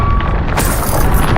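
A Bombarda blast spell in the Hogwarts Legacy video game erupts as a loud booming explosion about halfway through, a heavy low rumble with a broad crackling burst over a constant dense din.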